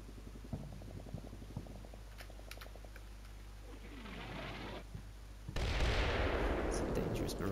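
Artillery barrage in the video game Combat Mission: Shock Force 2. Distant rumbling and scattered pops build into a loud, roaring blast near the end, over steady battlefield ambience.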